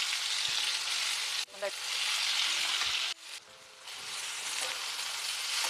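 Hot oil sizzles loudly in a pan; twice the hiss abruptly dips as tempering seeds, then ginger and green chillies drop in, then crackles back up.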